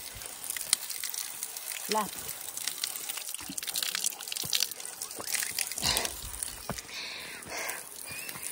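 Water splashes and gushes steadily from a spout, a constant broadband rush with occasional sloshing and drips, while a person speaks over it.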